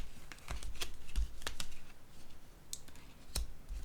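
A tarot card laid down on a table, heard as soft close papery taps and slides spread across a few seconds, with faint clicks and no talking.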